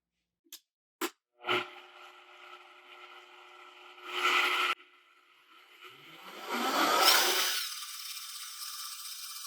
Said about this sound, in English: A high-speed blender works the best for this. We'll just blend it up.